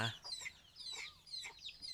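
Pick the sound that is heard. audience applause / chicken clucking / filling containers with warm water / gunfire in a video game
chicken clucking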